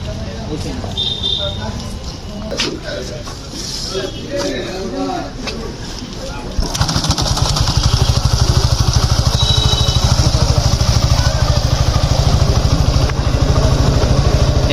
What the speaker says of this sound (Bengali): এখন স্টার্ট নিছে ঠিকই পাঁচ নাম্বার গিয়ার ফালাইয়া তারপর স্টার্ট দিছি এখন ঠিকই স্টার্ট নিছে